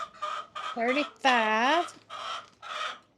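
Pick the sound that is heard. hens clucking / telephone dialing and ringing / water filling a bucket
hens clucking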